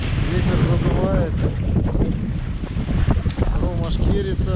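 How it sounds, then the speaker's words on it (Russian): Strong wind buffets the microphone on open sea beside a fishing boat off Kildin Island in late May, a continuous loud roar with wave wash and faint voice fragments mixed in. "ветер задувает"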